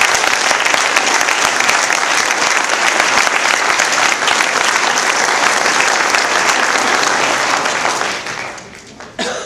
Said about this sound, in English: I think we owe Senator Brown a great round of applause